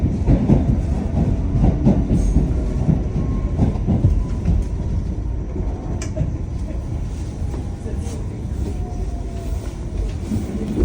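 A New York subway N train, Coney Island bound local, runs with a loud steady rumble, rattling wheels and periodic clacks on the track, with faint voices in the car.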